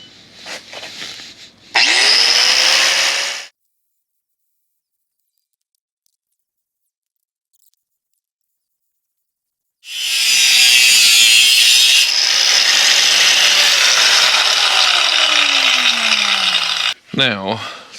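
A power tool cuts exhaust pipe for a 1974 Volvo 164e in two loud, close bursts: a short grinding cut, a long quiet gap, then a sustained cut of several seconds that stops sharply.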